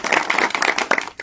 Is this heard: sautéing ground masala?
no